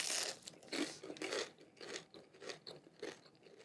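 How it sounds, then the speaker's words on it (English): Crisp bites and chewing of a frozen soul-food waffle, close and fairly quiet, with about five or six crunchy bursts in an uneven rhythm. "Now I'm going to try this waffle, which, again, they're crispy."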